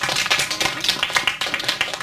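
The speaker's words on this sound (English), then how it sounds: "Let's applaud those two people." A fifth-grade classroom bursts into dense, brisk applause for two students, with many hands clapping close together at an even loudness for a couple of seconds.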